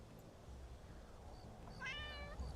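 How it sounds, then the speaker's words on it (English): A cat in the video game Skyrim gives a single short, faint meow when petted, heard near the end over low background game ambience. "Okay, we're going to pet the cat."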